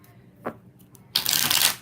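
Tarot cards shuffled close up: a soft single flick, then a loud, rapid riffling burst that fills the last half second.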